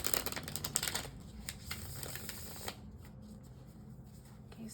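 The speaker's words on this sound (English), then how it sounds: "Let me shuffle your tarot cards a couple times" Tarot cards being shuffled, a dense rustling riffle for about a second, then softer sporadic card slaps and slides, close and quiet with no talking.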